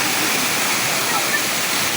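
Tangadan Falls sends a constant wash of flowing fresh water, a steady broadband rush at close range with no breaks, nearly uniform in loudness from start to finish.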